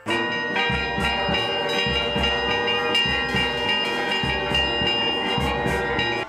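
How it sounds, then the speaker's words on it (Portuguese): Church bells in Minas Gerais, Brazil, ring continuously in a loud, overlapping peal, with repeated strikes layered over long, shimmering resonant tones. "as pessoas querem ouvir os sinos"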